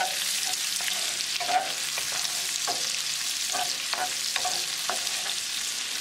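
A spoon stirs minced garlic frying in melted butter in a pan, a steady bright sizzle running throughout with a series of soft scraping strokes against the pan, close and continuous, with no talking.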